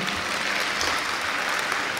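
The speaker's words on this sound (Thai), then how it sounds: "ขอเสียงปรบมือ" Steady applause from an audience at a formal awards ceremony, a dense, even wash of clapping that fills the whole stretch without pause.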